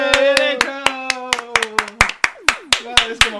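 Sharp hand claps ring out in a quick, regular beat, about four per second, close and crisp, while a voice talks and hums over them.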